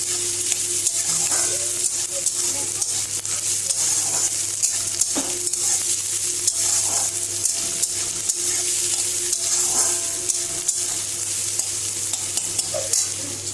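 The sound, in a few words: vegetables stir-frying in a pan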